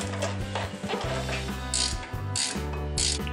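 A ratchet wrench clicks steadily while a 17mm bolt is tightened during a front brake job on a Pontiac Vibe / Toyota Matrix, giving close, rapid mechanical ratcheting in repeated bursts with no talking.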